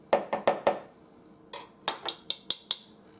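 A knife taps and scrapes against a metal measuring teaspoon while leveling baking soda for almond crisp cookies, about ten short, sharp clinks in two bursts, close and fairly quiet.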